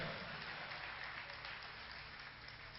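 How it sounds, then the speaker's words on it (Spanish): Congregation applauding during a church service with a Holy Spirit sermon: continuous, even clapping wash, faint and somewhat distant, holding steady without pauses or voices on top. "Denle un aplauso a él, aleluya."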